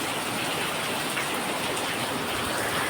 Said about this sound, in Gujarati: અને વરસાદ પણ શરૂ થઈ ગયો છે